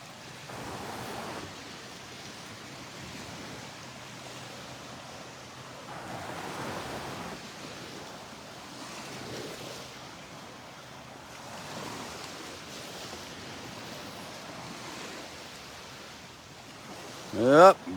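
Waves roll onto the beach at Delnor-Wiggins in slow, repeating surges, each swelling and fading under a steady hiss of wind, with a sudden louder gust or bump at the very end.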